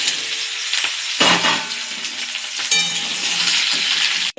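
Chopped vegetables drop into a little hot oil in a kadai and burst into a loud sizzle, with a few sharp clatters of utensils along the way, then steady frying continues to the end.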